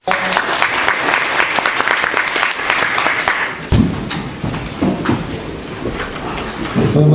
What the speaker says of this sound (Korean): 다시 뜨거운 박수 한번 부탁드리겠습니다.